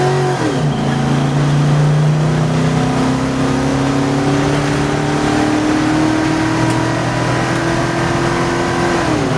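A 1977 International Scout with an LS V8 swap revs steadily and loud, its engine note climbing and holding high across several seconds with no talk over it.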